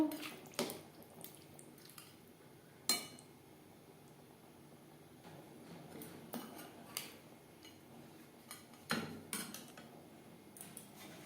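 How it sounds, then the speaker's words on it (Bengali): Quiet stirring of fish heads into gravy in a pot, with scattered clinks of a spoon against the pot and soft wet sloshing, intermittent and close. "গ্রেভির সাথে মাছের মাথা বেশ ভালো করে মিক্সড করে দেব"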